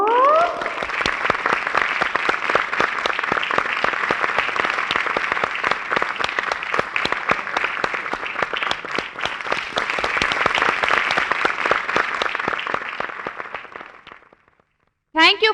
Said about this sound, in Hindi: Thank you for the applause.